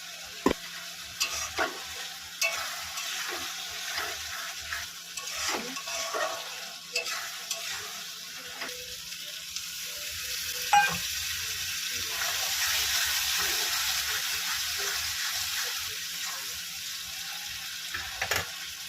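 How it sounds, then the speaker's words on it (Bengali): Prawns sauté in mustard oil in a pan, sizzling steadily as a spatula stirs and scrapes in an irregular rhythm. The sizzle grows denser toward the end and continues without talk. "এবার ভালো করে কষিয়ে নেবো।"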